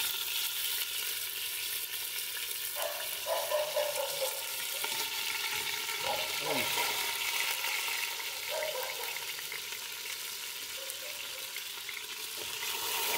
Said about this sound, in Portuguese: Eu vou começar a colocar os pedaços aí pra refogar, que o óleo tá bem quente